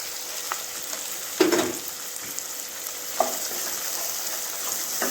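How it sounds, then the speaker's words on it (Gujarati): Green onion and chopped ginger frying in oil in a pan, a steady close sizzle with a couple of brief louder stirs or scrapes, no talking. "ડુંગળી ગુલાબી રંગની થાય ત્યાં સુધી આપણે તેને કૂક કરીશું"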